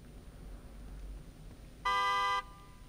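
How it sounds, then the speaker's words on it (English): A car horn in The Evil Within 2 blares once in a steady, loud tone of about half a second, standing out over low in-game ambience. "Honk the horn."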